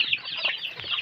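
Native Tagalog chickens on a farm clucking, a brief burst of continuous nearby hen chatter and soft clucks with a busy, overlapping texture.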